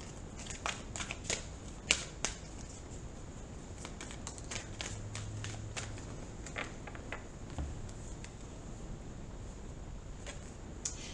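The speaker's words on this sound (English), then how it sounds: "I'm going to pull an Angel Prayers card" Oracle cards from an Angel Prayers deck are shuffled and one is pulled, giving a steady papery riffle with many quick soft slaps and flicks, close and fairly quiet, and no talking.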